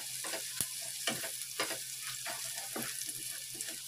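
Garlic frying in oil for an Indonesian potato dish gives a steady, close sizzle, with regular scraping strokes of a spatula through the pan about twice a second.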